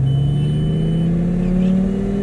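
A loud homemade turbo Lamborghini engine revs up smoothly as it accelerates in first gear, the pitch rising steadily over a couple of seconds, close by.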